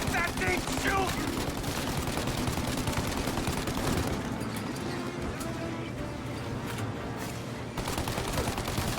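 Gunfire at a turret in Mafia: Definitive Edition, a steady clatter of rapid shots through a chase scene with engine rumble and shouting voices, loud and sustained.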